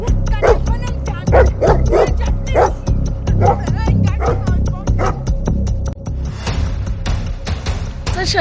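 Dogs bark and yip repeatedly at close range in a steady run of sharp bursts, with people talking over and between them.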